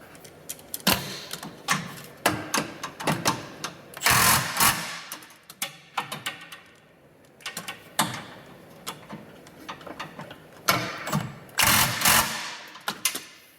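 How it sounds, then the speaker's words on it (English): Impact wrench tightening bolts on Jeep Wrangler JK shocks, repeated loud rattling hammering bursts of a second or so, separated by brief pauses, close by and with no talking. "Once you get those tightened up with the impact, you can torque them down to spec."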